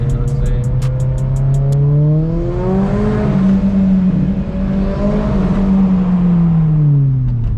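Car engine loud and close, revving and accelerating uphill at a Southern California car meet, pitch climbing steadily through gears with a sustained throaty roar that holds for several seconds.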